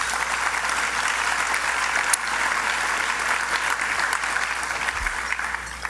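A crowd at the unveiling of the Pennsylvania Station-Farley Complex claps steadily and warmly, a dense wash of applause that holds throughout without voices over it.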